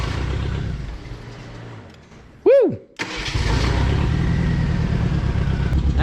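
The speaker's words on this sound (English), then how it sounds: "We're gonna fire her up and check our trans fluid. Also, we're gonna hear this new custom exhaust we just fabricated." A 1988 Ford Thunderbird Turbo Coupe, long abandoned, cranks and fires up through a newly fabricated custom exhaust, settling into a loud, steady idle rumble, with a person whooping partway through.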